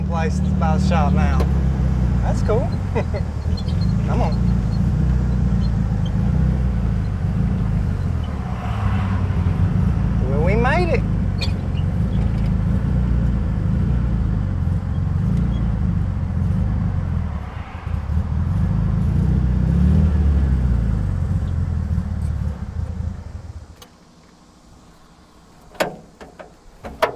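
A 1974 Volkswagen Thing with a swapped-in engine drones steadily as it drives on a busy road, its low engine hum loud and close with brief passing-traffic noise, then easing off and going quiet near the end.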